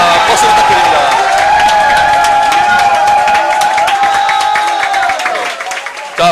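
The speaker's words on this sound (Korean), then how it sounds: "박수 부탁드립니다" An indoor crowd at a youth committee launch ceremony claps and cheers loudly and close, with whoops and a sustained tone running through the noise, and the sound thins toward the end.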